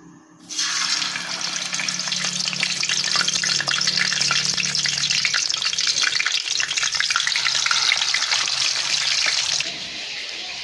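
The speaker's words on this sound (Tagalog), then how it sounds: "so ngayon naman po ay mag-prito ako ng isda." Fish frying in a pan, a loud continuous crackling sizzle that bursts in abruptly and holds steady for about nine seconds before dropping away to a low hiss, no talk.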